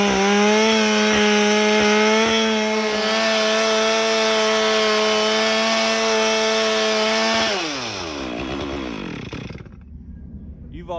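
A chainsaw with a dull chain cuts into a storm-felled white oak log. Its loud, steady high whine runs for about seven seconds, then the revs drop and wind down into a quieter idle.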